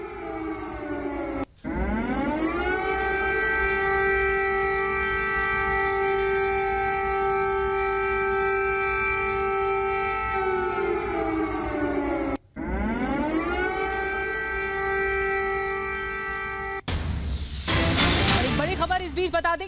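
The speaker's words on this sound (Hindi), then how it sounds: "लगातार हवाई हमलों के सायरन बज रहे हैं" Air raid sirens over the city of Kyiv, a long steady wailing tone that winds up, holds for several seconds, drops, then starts again, loud and continuous, with noisy chatter breaking in at the end.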